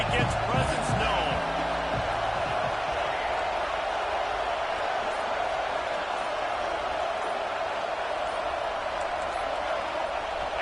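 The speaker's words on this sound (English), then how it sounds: "This crowd ready to make its presence known." A dense, steady roar from a packed football stadium crowd at an Indiana vs Ohio State game, a constant wash of noise from start to finish, with a commentator speaking over it.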